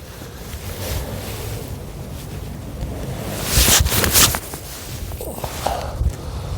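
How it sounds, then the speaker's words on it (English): Strong left-to-right wind sweeps across an open golf course, a loud continuous rush buffeting the microphone, with a heavier gust surging midway before easing back. "Very strong left to right wind."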